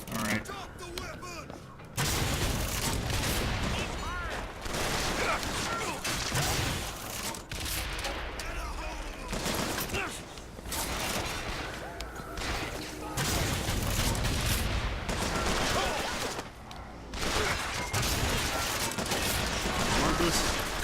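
Loud, continuous barrages of missile launches and explosions roar through a late-1990s video game fight, booming in dense, overlapping bursts with brief lulls between volleys.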